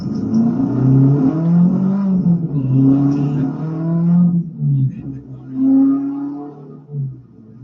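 A 125cc motorcycle engine revs with a steady, rising and falling drone that swells and eases in several pulses, loud and close, with people talking over it.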